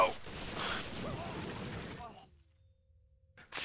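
Submachine gun fire in the SWAT 4 game during a multiplayer round, with a dense, clattering stretch mixed with shouting voices, then near silence, then a sharp loud burst at the end.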